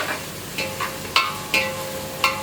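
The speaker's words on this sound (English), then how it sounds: "While the onions are getting brown, we'll make sure that they get nicely brown." Onions browning in a pan for pork korma sizzle steadily, while a spoon scrapes and stirs them in several distinct strokes close up.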